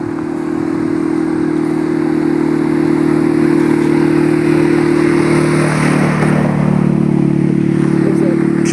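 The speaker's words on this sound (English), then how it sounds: "A four-wheeler, I should say, not a tractor, four-wheeler." A four-wheeler ATV drives past on a rural autumn road, its steady mid-pitched engine drone holding loud and close for several seconds before easing slightly as it moves on.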